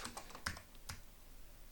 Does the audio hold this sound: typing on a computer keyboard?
yes